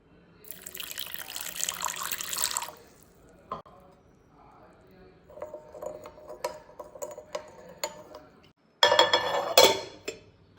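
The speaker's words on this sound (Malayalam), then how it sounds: "ഇനി ഇതിലേക്ക് ഒരു നുള്ളു ഉപ്പും ചേർത്ത് ഒരു കാ ഗ്ലാസ് വെള്ളം ഒഴിച്ചിട്ട് പത്ത് മിനിറ്റ് അടച്ചു വെക്കാം" A glass of water is poured into a bowl of yeast, sugar and a pinch of salt for a dough. A short splashing pour is followed by quiet gaps, scattered clinks of glass and dishes, and a final louder burst of running water.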